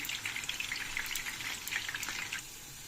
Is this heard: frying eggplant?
yes